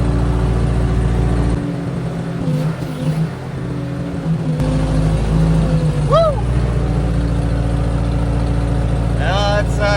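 A hydraulic machine's engine runs with a loud, steady low drone throughout. Brief higher whines and squeals rise over it in the second half.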